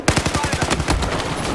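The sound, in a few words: gunfire in Battlefield 4 video game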